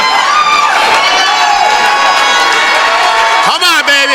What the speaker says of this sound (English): We're going to cheer.